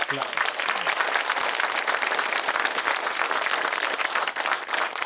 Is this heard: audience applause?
yes